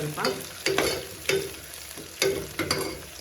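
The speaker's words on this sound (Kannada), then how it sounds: "ಅದನ್ನು ಚೆನ್ನಾಗಿ ಫ್ರೈ ಮಾಡ್ಕೊಳ್ಳಿ" Dried red chillies fry in a hot pan for a palav, with soft sizzling under repeated sharp scrapes and clinks of a spatula stirring about every half second, close and moderately quiet, no voices.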